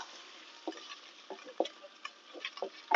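Onions and garlic sautéing in a pan for Turkish hünkar beğendi, with soft scattered ticks, scrapes and light sizzle at a quiet, close level, no talking.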